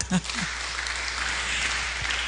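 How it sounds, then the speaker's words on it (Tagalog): A congregation at a midweek worship service applauds, a diffuse wash of clapping that follows a brief voice at the start and continues evenly in a reverberant hall. "Palakpak."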